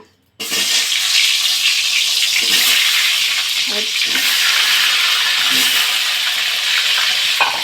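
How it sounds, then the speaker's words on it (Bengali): Potatoes with salt and turmeric dropped into hot oil, an abrupt loud sizzle that keeps crackling and hissing steadily, with occasional stirring noises. "তেল গরম হয়ে গেছে, এবার আমি আলুটা লবণ দিয়ে হলুদ দিয়ে ভেজে নেব।"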